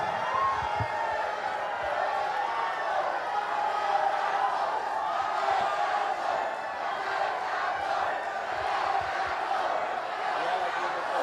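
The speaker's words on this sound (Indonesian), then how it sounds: "Silakan tepuk tangan." An audience at a regent candidates' debate claps and cheers in a sustained, fairly loud wash of crowd noise with whoops and mingled voices.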